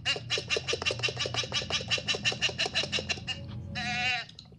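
Sheep in the multiplayer game MTA San Andreas bleat in a rapid, rhythmic burst of about twenty close, loud calls, followed by one longer, wavering bleat.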